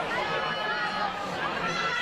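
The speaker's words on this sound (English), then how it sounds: "I think we're just starting to hear the crowd level out. I can hear a big KCL contingent now." A large university rugby crowd with a big King's College London contingent, heard as a steady, dense wash of distant chatter and cheering that holds at an even level throughout.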